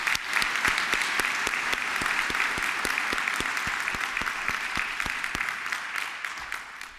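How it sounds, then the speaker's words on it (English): Warm audience applause at a university opening ceremony honours a Mandela Rhodes Scholar, with steady, dense clapping running the full length at even volume before easing slightly at the end. "Our Mandela Rhodes Scholar, a warm round of applause"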